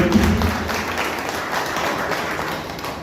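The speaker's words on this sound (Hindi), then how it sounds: "मैं चाहूँगा कि अभी तक के लिए जोरदार तालियां" An audience at a health awareness program applauds loudly, a dense, continuous wash of many hands clapping that holds steady throughout with no one speaking over it.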